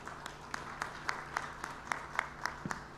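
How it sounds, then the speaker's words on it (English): Conference audience at a network operators' event in Mumbai applauding, a thin, steady patter of claps with a few sharper individual claps standing out, fairly distant and with no one speaking. "Can we again give a big round of applause?"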